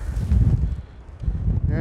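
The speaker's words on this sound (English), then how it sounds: "how windy this is" Strong wind buffets the microphone on a mountain top near Fort William, low rumbling gusts surging and easing, loud and close.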